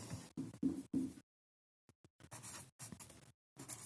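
A marker or chalk scratches across a board in a physics lesson as the reason for no photoelectric emission is written out. The strokes come in short, close bursts separated by pauses, with no voice over them.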